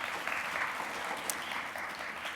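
Audience applause for mentors of entrepreneurs at a university Bull Ring event, continuous dense clapping throughout a short burst.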